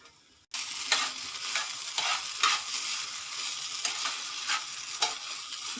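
Egg curry ingredients with chilli powder, salt and coconut powder stirred in a sizzling pan, steady frying hiss with rhythmic scraping strokes about every half second after a quiet start.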